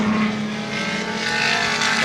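1972 touring cars race at Warwick Farm, with a steady, loud engine roar holding a sustained drone as the car accelerates, continuous and without voices.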